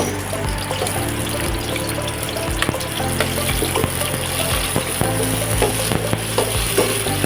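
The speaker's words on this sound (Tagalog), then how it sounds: "Painitin muna natin yung mantika. Igisa yung bawang at sibuyas." Garlic and onion sautéing in hot oil for a mussel kinamatisang tahong dish, giving a steady close-up sizzle and hiss that runs unbroken, with small pops and crackles scattered throughout.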